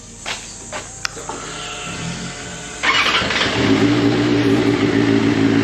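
A QJMoto SRK 600RC motorcycle's inline engine turns over and fires, then settles into a steady, loud growl that thickens partway through as it revs, close by with no talking.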